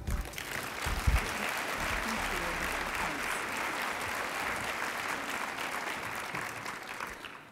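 An audience applauds to welcome Deborah Hersman at an aviation service event, a sustained, dense clapping that fills the room at steady volume before fading at the end.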